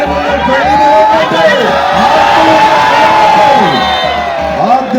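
A loud, packed crowd roars at a close match between Kondotty and Vengoor, with sustained cheering, shouts and whistles blending into one continuous, near wall of noise.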